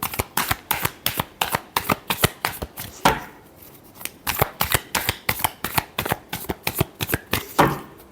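Tarot cards shuffled rapidly by hand, a close, crisp run of riffling snaps in quick rhythmic bursts, pausing briefly midway before the fast shuffling picks up again.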